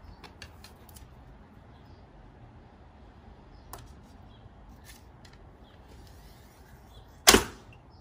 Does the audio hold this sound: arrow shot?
yes